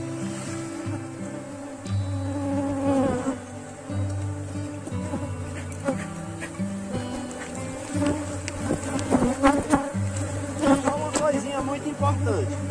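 Honeybee swarm at an apiary hive right after a colony split, a steady insect buzz and hum running throughout under other low background sounds, moderately loud and continuous.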